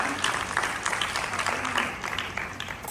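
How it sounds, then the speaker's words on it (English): A steady patter of audience applause for prize winners at a college eye donation awareness program, moderately loud and continuous throughout. "A round of applause for the winners."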